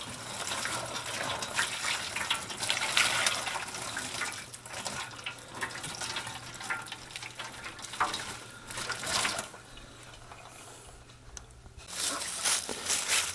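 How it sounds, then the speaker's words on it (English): Boiling water is poured over a processed Pekin duck, giving a steady, fairly close gushing and splashing that wavers in strength, eases briefly near the end, then surges again. "I'll pour boiling water over it."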